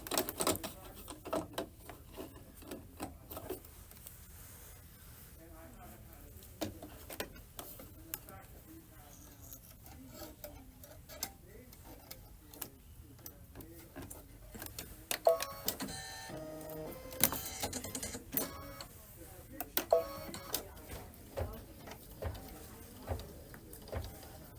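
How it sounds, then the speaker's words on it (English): An embroidery machine stitches a spring pillow design, a rapid, irregular mechanical ticking and clattering of the needle going up and down, close and fairly quiet, growing busier in bursts toward the end. "you don't have to just watch the embroidery machine going up and down for the whole time"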